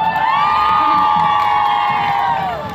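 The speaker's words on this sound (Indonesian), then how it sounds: "Beri tepuk tangan untuk SMP Islam Wonopringo." A loud crowd at a school carnival in Pekalongan, Indonesia, cheers and shouts in a sustained high-pitched roar, with children's voices prominent and steady throughout before easing slightly at the end.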